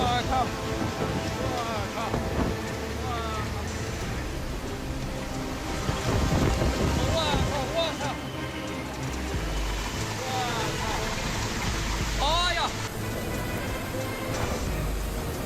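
Heavy rain and gusting typhoon wind from Typhoon Wutip hit in a dense, continuous roar, with occasional whistling and clattering debris.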